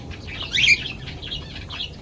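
Birds feeding on chickpeas give a brief burst of wing flutter and chirping near the middle, followed by softer scattered tweets over faint background noise.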